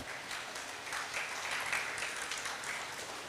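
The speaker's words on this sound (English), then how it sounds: "So give yourself a clap." An audience at the opening of the Changamka Mombasa Shopping Festival at Oshwal Centre, Mombasa, applauds in a steady, moderately distant wash of clapping that rises slightly midway.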